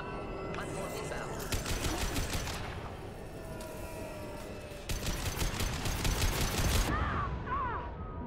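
Gunfire in the video game Mass Effect 2, with two long bursts of rapid automatic fire set against a steady background of game ambience, loud and close. Game voices and chirping effects sound between the bursts.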